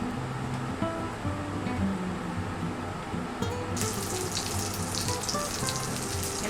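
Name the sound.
pork belly searing in olive oil in a pan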